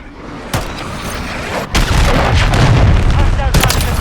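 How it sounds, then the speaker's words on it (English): Cruise missile explosions in Call of Duty Modern Warfare III: sharp booming blasts at the start and end, with a heavy rumbling roar of a large explosion building and sustaining through the middle. "Friendly cruise missile deployed."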